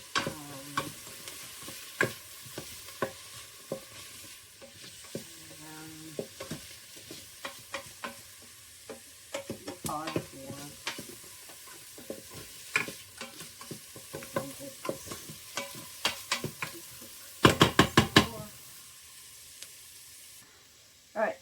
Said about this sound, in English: Alright, so I stirred this for about like 3 to 5 minutes